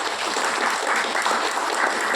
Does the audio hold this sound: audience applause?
yes